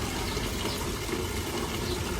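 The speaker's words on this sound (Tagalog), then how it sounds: "tumutulong tubig galing sa gripo" Water running from a tap at a school vegetable garden, a steady close gushing flow with an even hiss throughout and no voices.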